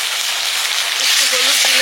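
Black cumin and onion frying in hot mustard oil, a loud, close, continuous hiss and crackle of sizzling, with a voice speaking briefly near the end.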